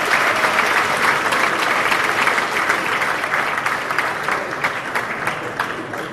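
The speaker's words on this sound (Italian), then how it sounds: "Un grande applauso a Antonio Giuliani." A theatre audience breaks into steady, dense applause welcoming a comedian onto the stage, loud and close, sustained for the whole stretch with no talk over it.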